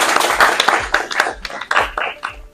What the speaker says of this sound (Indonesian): Kita aplaus dulu untuk lihat.